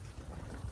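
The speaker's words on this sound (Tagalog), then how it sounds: "Malakas yung hangin" Strong wind buffets the microphone, a constant rough rumble with no other sounds.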